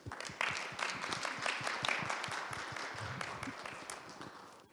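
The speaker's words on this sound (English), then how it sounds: "Everyone, please give them another big round of applause." Audience at a high-level Korea–Caribbean forum gives a round of applause, dense steady clapping of many hands that slowly fades, with no talk over it.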